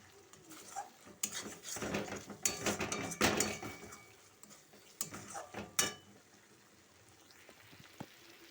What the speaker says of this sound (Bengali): হাফ চামচ লঙ্কা গুঁড়ো দিয়ে ভালোভাবে আমি মশলাটাকে ভেজে নিচ্ছি